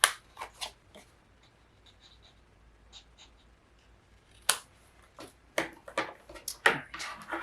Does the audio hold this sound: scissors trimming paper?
yes